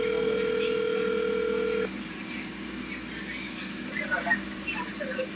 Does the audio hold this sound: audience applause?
no